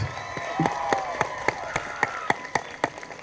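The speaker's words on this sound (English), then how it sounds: "How about another round of applause for the class of 2026?" A crowd at an elementary school moving-on ceremony applauds the graduating class, scattered hand claps standing out as sharp individual hits over a thin, lingering murmur of cheering and voices.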